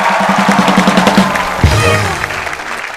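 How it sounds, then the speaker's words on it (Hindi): An audience claps loudly for a guest at a lively stage event, a dense steady wave of applause that fades slightly toward the end. "जोरदार तालियां रेखा जी के लिए"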